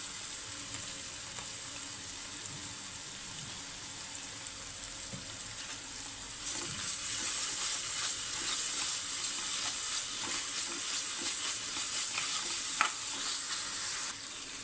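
Ginger garlic paste frying in a pan for pav bhaji, a steady close sizzle that grows louder and brighter partway through, with faint stirring scrapes and no voices.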